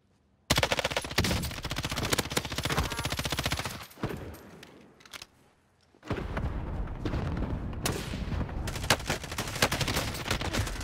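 Rapid automatic gunfire from Call of Duty Warzone, loud and close, with sustained bursts broken by a brief near-silent gap before the shooting resumes and continues to the end.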